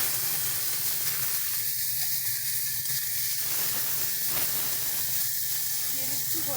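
Prawns fry in hot mustard oil in a wok, making a continuous hissing sizzle that rises and settles, close and moderately loud, with no speech.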